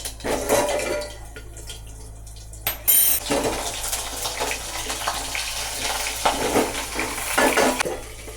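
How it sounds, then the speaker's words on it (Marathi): Stuffed onions frying in oil with mustard seeds in a pan, giving a steady close sizzle with stirring scrapes and clinks of a utensil against the pan throughout. "तेलामध्ये थोडंसं मोहरी टाकून भरलेले कांदे आहेत ते त्याच्यामध्ये टाकलेले आहेत"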